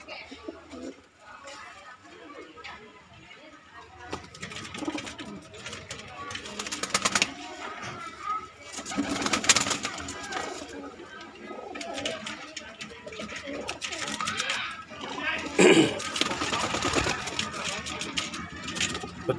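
Desi high-flying pigeons coo in soft repeated bursts among scattered rustling and wing flutters, fairly close, while someone talks over them in Hindi.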